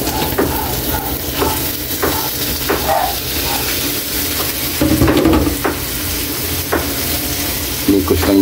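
Shrimp dropped into a hot pan for ginataang kalabasa, sizzling loudly and steadily while a utensil stirs and scrapes, with occasional clinks against the pan.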